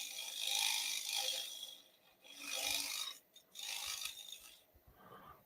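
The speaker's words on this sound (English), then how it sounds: "Just an old Sorby scraper. I put a little radius on it." An old Sorby scraper with a slight radius ground on its edge scrapes spinning wood on a lathe, giving close, harsh rasping strokes in several sustained passes separated by short pauses.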